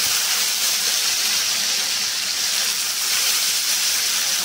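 Diced potatoes coated in turmeric and salt sizzling in hot oil with chilli and five-spice seeds, a steady, loud, bright hiss of frying that stays even throughout with no talking.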